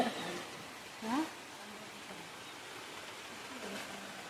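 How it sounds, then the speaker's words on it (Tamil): Heavy morning rain falling in a village, a steady broad hiss of downpour filling the whole stretch, with a person talking over it. "எங்கள் ஊரில் காலையில் நல்லா மழை பெய்யுது"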